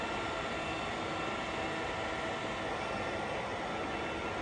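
A Shenyang CW6280B gap bed lathe with its spindle turning at 125 rpm gives off a steady, loud broadband mechanical hum that holds constant from start to finish, with no voices.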